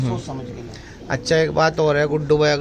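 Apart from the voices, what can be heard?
No distinct noise like a dog, phone or traffic.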